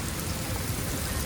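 Steady rainfall in Venezuela makes an even, hissing wash of drops on surfaces, close and continuous, with no other sounds standing out.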